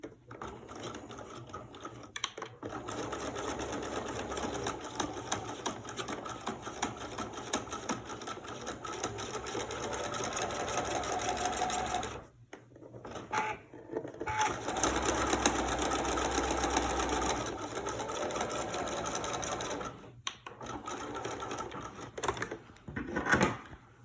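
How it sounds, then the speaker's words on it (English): A sewing machine stitches a facing and side seam in one pass, running in close, steady bursts with brief pauses between runs. "we're going to sew the facing and the side seam all in one seam"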